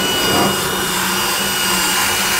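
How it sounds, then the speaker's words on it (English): Loud, steady high-pitched whine of a cordless drill on torque setting 3 running continuously, close by, with no pauses, driving a Speed Binders torque-drive load binder. "Putting the drill to on, and I'm on the 5th setting on number 3 as far as torque."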